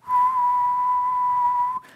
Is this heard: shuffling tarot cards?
no